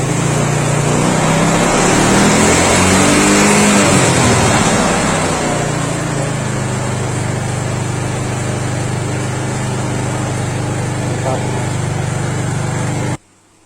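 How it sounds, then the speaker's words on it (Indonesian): A Yamaha Mio Soul carburetor scooter engine idles steadily and loudly nearby with a buzzing hum, its pitch shifting briefly early on before settling, then cutting off abruptly at the end; a voice talks over it. "Kan motornya udah hidup nih."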